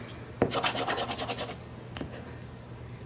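Fabric pressed onto a small 4.5-inch memo notebook cover is burnished with a tool, giving a run of quick, close rubbing strokes in a steady rhythm, then a few separate rasps, with no talking.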